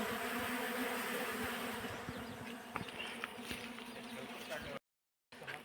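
Wild honey bees swarming around a freshly exposed honeycomb in Ratnagiri, Konkan, a dense, steady buzz close by that thins slightly midway, with a few sharper clicks and a brief cut to silence near the end.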